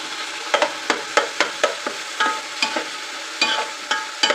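Soy-sauce, pepper and ginger-garlic marinated chicken stir-frying in a pan for restaurant-style chicken fried rice: a soft sizzle under repeated sharp spatula scrapes and clacks at an uneven rhythm.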